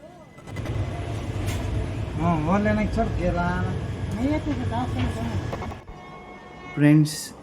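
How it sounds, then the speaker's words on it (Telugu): A train pulls out of Hubballi Junction on a Bangalore to Mumbai journey, its low rumble and rolling clatter steady beneath a person talking, followed by a brief louder burst near the end. "ఇక మన ట్రైన్ అయితే కదిలింది హుబ్బళ్ళి జంక్షన్ నుంచి."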